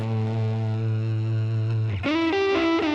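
Guitar run through a multi-effects processor with every effect block switched on, giving a loud, distorted, heavily processed tone that sustains one low note, then shifts into a choppy run of higher notes.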